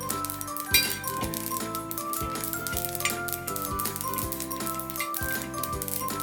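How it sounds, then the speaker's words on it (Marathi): Sesame seeds popping and crackling as they roast in a pan with half-roasted peanuts, a dense run of small clicks and pops close up with light metallic clinks, continuous throughout. "त्यामुळे तीळ छान चटकत आहे"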